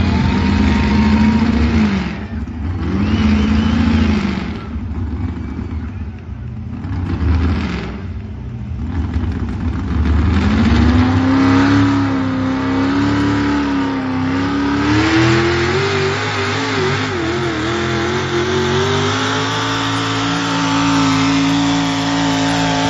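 A pulling truck's engine roars loudly and continuously at a truck-pull event, rising and falling in pitch as it revs under heavy load for over twenty seconds.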